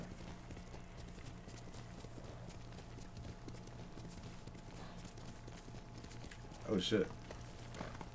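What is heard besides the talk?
horse hooves clip-clopping in a samurai video game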